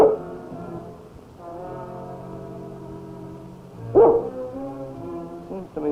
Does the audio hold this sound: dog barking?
yes